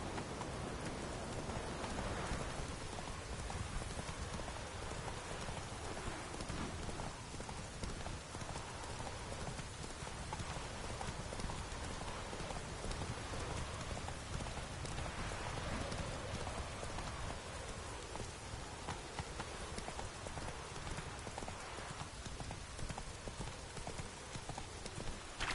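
Roach the horse's hooves clip-clop steadily at close range in a video game, paired with continuous falling rain across the whole scene and no talk over it.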